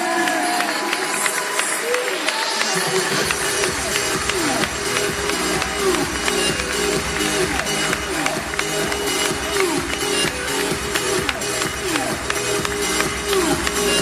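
Crowd applause and cheering for Nicola Palacios, a Swing performer, at a live event in Colombia, filling the hall loudly and continuously with a dense roar of many hands and voices.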